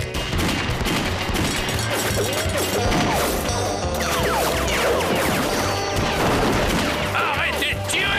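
Cartoon bank hold-up with a dense, chaotic barrage of gunfire, crashes and ricochet-like whines, loud and continuous throughout, with faint voices shouting underneath.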